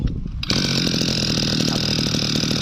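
A used Japanese Kyoritsu 209D brush cutter engine starts after a brief quiet moment, then runs loud and close as a steady buzzing two-stroke drone.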